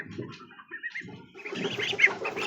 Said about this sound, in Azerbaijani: Burada isə 3 ədəd sort ördəklərimiz var.